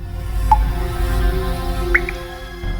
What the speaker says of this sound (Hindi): ये पानी टपकने की आवाज है।